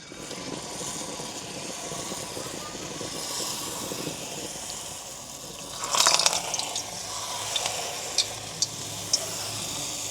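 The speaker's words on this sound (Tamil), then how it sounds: "இது பொரியட்டும் ஒவ்வொன்றா தான் பொரிய விட வேணும்" Thenkuzhal snack dough frying in hot oil, a continuous soft bubbling sizzle throughout, with a brief louder crackling burst midway and a few small clicks near the end, close and steady.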